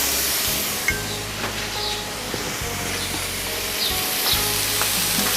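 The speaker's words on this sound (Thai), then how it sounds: "คั่วจนว่าให้มันหอมขึ้นนะ" Ingredients dry-roasting and stirred in a pan for a rustic Lao home-style dish, a steady sizzling hiss with occasional scraping stirs, close and continuous with no talk.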